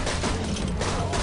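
A quick burst of dense gunfire in Borderlands 2, a loud rattling volley of overlapping shots filling about a second, without talk.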